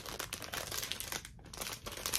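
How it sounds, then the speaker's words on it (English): A plastic package is handled and crinkled close by, with continuous rustling and crackling that is fairly quiet, with brief louder crunches. "sorry about the noise. I was going to try and get into this package."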